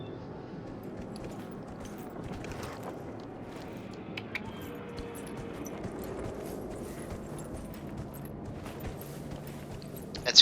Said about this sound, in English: Let's go ahead and take the horse to speed things up.